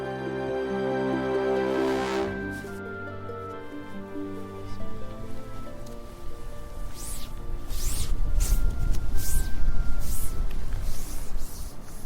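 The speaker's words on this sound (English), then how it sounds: "that's the sound of Rose wiping the tent down." Someone wiping water off a wet camping tent on the Isle of Skye, giving soft rustling and swishing strokes that grow louder and more continuous later on, with faint outdoor background at the start.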